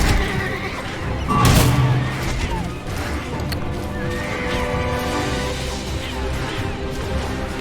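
A horse in the online role-playing game Bless Online gives a loud, shrill whinny near the start, with clip-clopping hooves and busy game combat noise continuing underneath.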